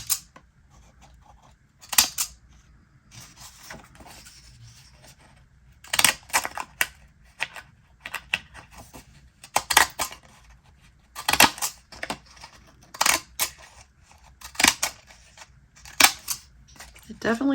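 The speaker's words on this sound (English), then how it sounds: "Not very good at using these scissors yet." Fiskars Blossom design scissors snip through paper in a series of short, sharp cuts, spaced irregularly and close to the mic, with quiet gaps between the cuts.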